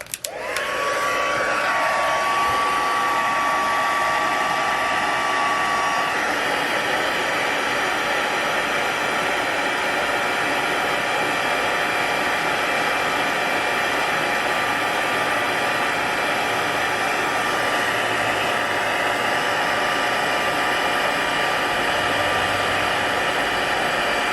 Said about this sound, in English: So I'm going to take my heat tool, and I'm just going to heat these just until they turn shiny.